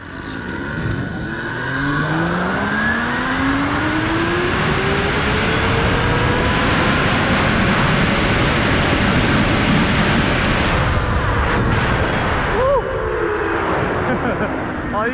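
E-bike tires rolling over a dirt trail during a fast run, a steady close rushing roar that continues throughout with a faint rising whine beneath and a few brief clicks near the end.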